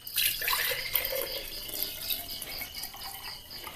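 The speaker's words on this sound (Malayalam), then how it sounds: "ഇനി നമുക്കിത് കുപ്പിയിലേക്ക് ഒഴിച്ച് വെക്കാം." Homemade grape wine trickles and splashes steadily into a glass bottle, a soft continuous liquid pour heard up close and fairly quiet, with no talking.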